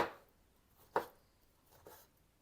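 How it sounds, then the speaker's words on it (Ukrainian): A knife chops tomatoes on a cutting board in a few separate, spaced strokes, close and fairly quiet, with no talking. "І нарізаю от такими от шматочками"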